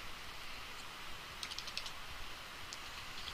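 Someone types on a computer keyboard: a short, quiet burst of clicking keystrokes over a faint, steady background hiss.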